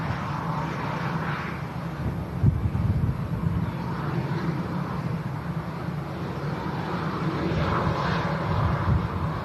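A British Airways shuttle airliner arriving from London Heathrow comes in to land, a steady distant engine rumble mixed with wind noise that holds throughout and swells slightly toward the end.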